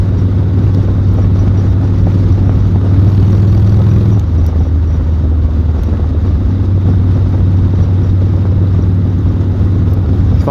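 A 1986 Harley-Davidson 883 motorcycle rumbles steadily underway, its loud low engine note shifting pitch briefly partway through, then holding on with wind noise.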